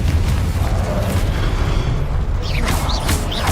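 A loud, sustained blast from the Confringo spell in Hogwarts Legacy, a deep rumbling explosion followed by whooshing, crackling magical effects.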